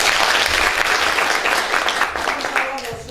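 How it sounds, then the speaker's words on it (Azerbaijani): Loud, full applause from a crowd at a children's talent academy show in Gədəbəy, the clapping dense and sustained before thinning slightly near the end as a voice begins to come through. "Bir alqış gəlsin"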